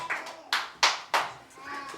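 A church congregation claps hands during a service, a few loud separate bursts of applause close by, spaced unevenly.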